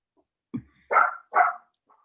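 A pet dog named Molly barks indoors during a Zoom meeting: one short yip, then two loud, close barks in quick succession, with no talk over them.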